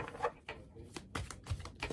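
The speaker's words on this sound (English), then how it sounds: "I'll just shuffle the cards." Tarot cards being shuffled by hand: a run of soft, irregular papery riffles and slaps at close range, about eight quick bursts over two seconds with no talking.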